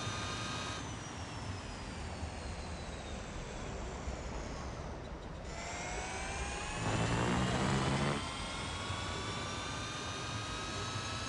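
Electric whine of the Lotus Evija hypercar in Real Racing 3, a steady rising-and-falling tonal hum from the motor, loud and continuous with a brief dip midway and a denser burst near the end.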